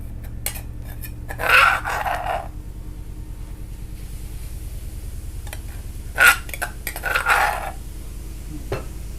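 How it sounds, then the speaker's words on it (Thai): Curry paste being stir-fried dry in a pan for a spicy Isan chicken soup, with intermittent scraping and clinking of a spatula against the pan over a low steady background hum, close and fairly loud in short bursts. "แล้วก็จะพริกแกงลงไปผัดหน่อยนะคะ ผัดให้มันหอมนะคะ"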